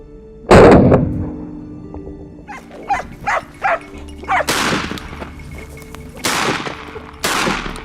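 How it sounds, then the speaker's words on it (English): Hunting dogs bark in short, repeated bursts while tracking a feral hog in Brazil's Pantanal; the barks come in quick clusters between a few louder, sharper cracks. "The barking of the hunting dogs led me to a dense thicket."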